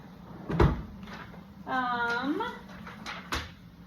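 A patient supply cabinet or drawer in a nursing simulation room is handled, giving two sharp knocks of opening and closing, with a person talking briefly between them.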